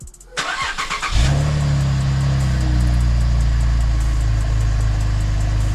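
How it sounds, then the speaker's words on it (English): Cold start of a stock Camaro: a starter whirs briefly, the engine catches with a rising roar, then settles into a steady, even idle with a deep low hum, close by and with no talking. "Let's get a cold start and see what it sounds like stock"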